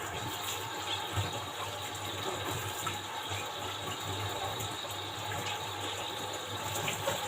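Running water splashes steadily over fish being rinsed in a tray, a continuous close wash of spattering and trickling with faint clinking underneath.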